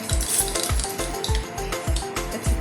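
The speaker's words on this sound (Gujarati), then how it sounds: "તેલ ગરમ થાય પછી આપણે એનો વઘાર કરીશું" Mustard seeds crackle and sizzle in hot oil up close for a dahi tikhari tempering, a steady hiss broken by regular low thumps.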